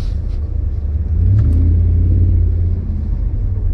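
A Dodge or Jeep engine fitted with an AMP'D throttle booster revs up from a low idle into a deeper, louder rumble with a slight blip of acceleration, heard close and alone.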